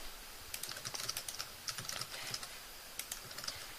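Quiet, close typing on a computer keyboard while filling out an InfoPath form, a steady run of light clicks in small bursts with brief pauses.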